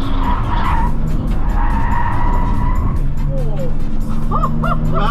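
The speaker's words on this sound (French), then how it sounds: "on est en train de drifter à 100" A car drifts at around 100 km/h at a track day on a race circuit, with a continuous loud engine roar and tire squeal close up, and voices talking over the noise inside the car.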